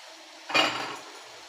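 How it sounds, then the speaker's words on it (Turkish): Washed bulgur tipped into spinach in a cooking pot, a single rustling, pattering pour about a second long with a light clink of a spoon or pot, close by, with no talk. "Bulgurumuzu da ekliyoruz."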